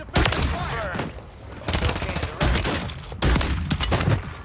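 Gunfire in a shooting video game crackles in loud bursts of rapid shots separated by brief pauses, with voices talking intermittently over the noise.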